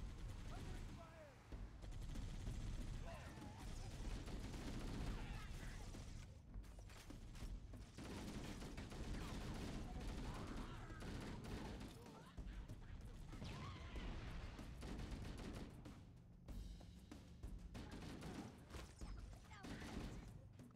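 Sustained gunfire from a firefight in Halo: Combat Evolved, dense bursts of shots and crashes running continuously and loudly, with a voice heard over the battle noise.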